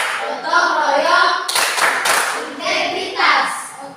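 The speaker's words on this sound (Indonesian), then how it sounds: "Oke, tepuk tangan" Children clap their hands in a classroom, a few bursts of quick hand claps mixed with young voices talking and calling out, loud and close, rising and falling across the moment.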